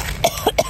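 A person coughs three quick times, close and fairly loud, over a low background rumble.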